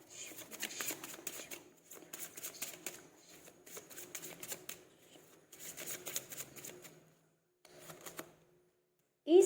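Tarot cards shuffled and handled in bursts of quick riffling and flicking, close and clear, with short pauses between passes and a soft thump near the end.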